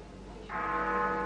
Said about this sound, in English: That last chime came live from Big Ben.